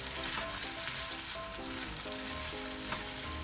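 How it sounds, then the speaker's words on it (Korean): Thinly sliced pork belly stir-fries over medium heat in scallion oil, making a steady, even sizzle throughout with faint tonal hum beneath and no talking. "고기 넣고 중불에서 볶아줍니다"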